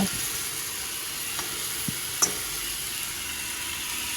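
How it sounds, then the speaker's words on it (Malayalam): Onions sautéing in a pan for biryani give a steady, even sizzle up close, with a few faint clicks of stirring. "അപ്പൊ ഉള്ളി നല്ലോണം വഴണ്ടിക്കണം അല്ലേ"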